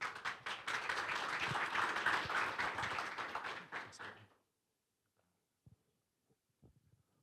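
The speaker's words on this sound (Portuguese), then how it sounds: "Uma salva de palmas para o Felipe." An audience at a corporate presentation event applauds a project manager as he is introduced, with sustained clapping for about four seconds before it cuts to near silence with a few faint taps.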